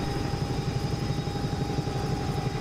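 Simulated helicopter lifting off in the X-Plane 11 flight simulator game, a dense continuous rotor and turbine roar with a steady high whine, loud and unbroken with no talk.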